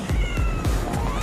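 A cat meows in the Fortnite: Battle Royale video game, giving several short, loud, rising and falling cries in quick succession, up close and clear.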